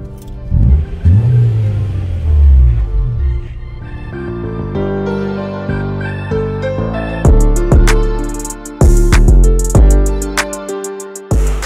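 A car with an original P18 engine revs hard several times, rising and falling in loud, close bursts with sharp throttle blips toward the end.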